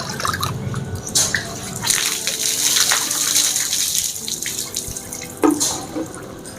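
Water is poured from a lota (jug) over the body and splashes down during Islamic ritual purification washing. The gushing and splattering is loud and close, swelling and easing in waves with drips between pours, and no talk is heard.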